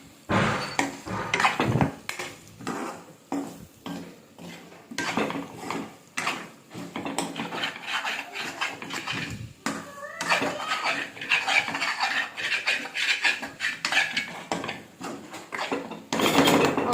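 Raw banana slices frying with chilli powder are stirred in a pan, producing a busy run of metallic scraping and clinking of a spoon against the pan, close and continuous with brief pauses.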